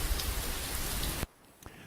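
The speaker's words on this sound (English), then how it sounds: "brown or red noise sounds like steady rain or distant thunder or a waterfall" Dense, low brown noise like steady rain fills the first second, a loud even wash that then cuts off abruptly into quiet with faint clicks.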